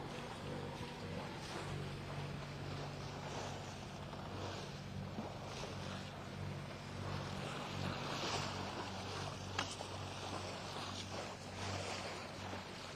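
A boat's motor drones steadily under continuous water rush and wind buffeting on the microphone, faint and distant-sounding, with no speech.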